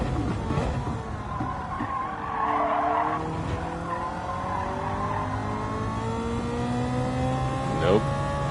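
Race car engine in Gran Turismo 7 screaming at the rev limiter, with a droning high engine whine, rising and falling pitch as gears change and tire squeal, steady and loud throughout with a voice speaking over it.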